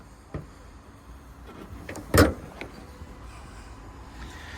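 The bonnet of a 2023 Mazda CX-5 is popped open, giving one sharp metallic latch clunk mid-clip amid a few fainter clicks and taps outdoors.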